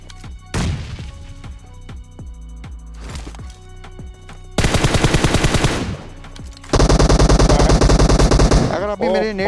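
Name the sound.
gunfire in the video game PUBG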